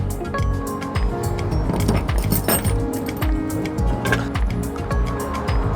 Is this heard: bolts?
yes